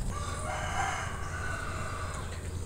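A rooster crows in a rural village yard over steady low background rumble, a single drawn-out call heard at moderate distance with no talking.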